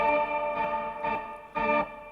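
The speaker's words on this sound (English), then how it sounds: "We have some reverb," A Super Manetron Mellotron M400 simulator app on an iPad plays sustained, tape-like tones with reverb added, swelling in three soft, evenly spaced pulses over a ringing held chord.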